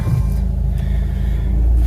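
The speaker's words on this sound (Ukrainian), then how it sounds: "Завели автомобіль." A Renault car engine idles steadily after starting, with a low, continuous rumble, loud and close, holding an even drone throughout.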